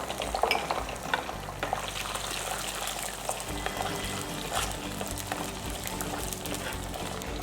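Small shallots and chopped big onions sizzle steadily in hot oil with garlic in a pan for a Tamil kara kulambu, a continuous crackling fry with occasional stirring scrapes and no talking.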